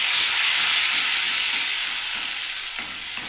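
Ground onion, ginger, garlic and tomato paste fries in a hot pan, a loud, dense hiss of sizzling that holds steady close by and eases slightly toward the end.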